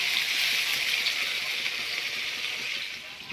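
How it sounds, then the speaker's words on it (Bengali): Water poured into a pan of fish curry, a steady hissing gush and splash that holds fairly level before tapering slightly near the end, no voices. "আমি জল দিয়ে দেবো"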